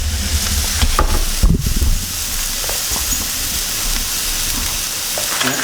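Onion sautéing in a hot pan with the heat turned off, a continuous hissing sizzle broken early by a few scrapes as it is moved around, close and steady.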